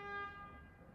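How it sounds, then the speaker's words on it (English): Car horn honking outside, a faint, distant sustained toot that fades within a second under low background noise. "Sorry for the honking."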